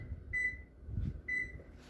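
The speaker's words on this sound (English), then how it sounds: "Timer set for 25 minutes." A kitchen timer gives two short, clear electronic beeps about a second apart as it is set, close and fairly quiet over low room noise.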